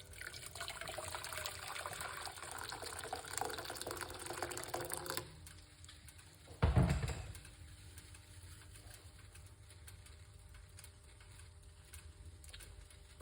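Hot water is poured into a cup, a steady close liquid stream for about five seconds that then stops, followed by a brief dull knock and quiet room tone.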